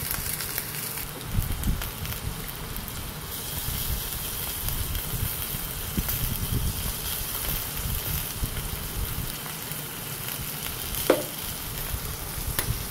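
Eggplant pieces frying in oil with turmeric in a kadai, a continuous dense sizzle and crackle with occasional stirring bumps, steady and close, no voices.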